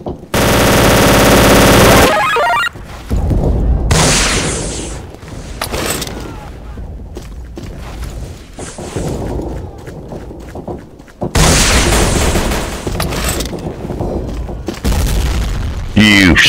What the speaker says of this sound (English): I'm getting shot through fucking walls.